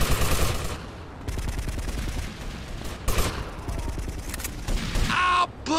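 Gunfire in the video game GTA Vice City Stories, sustained rapid bursts of automatic shots loud and close, with brief pauses and a short spoken line from a game character near the end.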